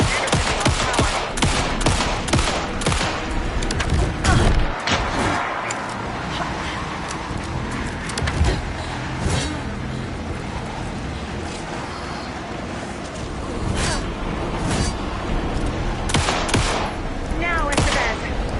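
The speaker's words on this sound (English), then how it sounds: "Anderson, pin him down with gunfire for me to get the light on him" Gunfire in the Alan Wake 2 video game, dense rapid shots and bursts layered with loud action effects and rumble, heard under occasional game dialogue.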